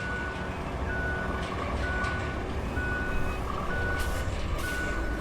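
A heavy truck in the road-building video game Roadcraft reverses, its backup alarm beeping in a steady evenly spaced rhythm over a loud rumbling diesel engine, with no talk.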